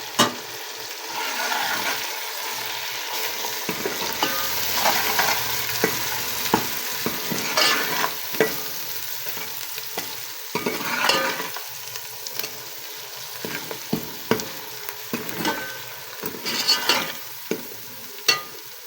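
Garlic, ginger, chopped tomato and jarred vegetable masala fry in a pan for a kadhi pakora curry, a soft steady sizzle broken by repeated close spoon stirs and scrapes, with no one talking.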